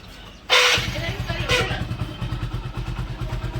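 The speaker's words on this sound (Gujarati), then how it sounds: "તો ગાઈસ મસ્ત બાઈક ચાલુ કરી દીધું હે" A motorcycle kick- or self-started with a sharp burst, then settling into a steady thumping idle with a regular rhythmic pulse, close by.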